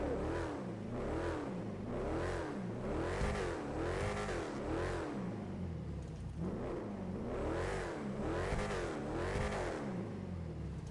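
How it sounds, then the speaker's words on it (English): A car engine revs repeatedly in GTA Online, rising and falling in rhythmic surges, loud and close, with a synthetic, game-like tone and no talking. "I really like the way the engine sounds on it"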